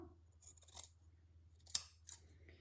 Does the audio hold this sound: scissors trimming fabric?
yes